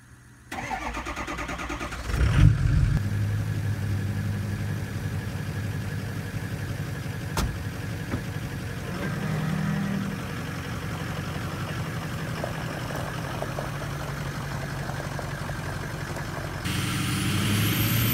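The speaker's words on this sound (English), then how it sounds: "Don't think I would leave you with a cool video like this without burning some tires." A Ford truck fitted with new traction bars runs steadily with a droning engine, a sharp thump early on and a continuous tire-burning roar that holds for the full length at moderate, close volume.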